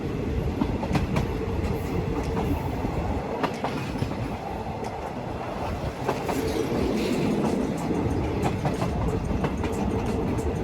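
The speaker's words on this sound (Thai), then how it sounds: "ตอนนี้ขบวนรถเร็วที่ 135พึ่งออกจากสถานีรถไฟมวกก" Rapid train No. 135 in Thailand, just departed Muak Lek station, rolls steadily along the rails, its wheels clattering rhythmically with occasional clicks and faint squeals, loud and continuous.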